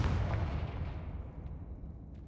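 Confringo blasting spell explosion in a Harry Potter PC game, one loud deep boom at the start that rumbles and fades away over about two seconds, with a few small pops trailing after.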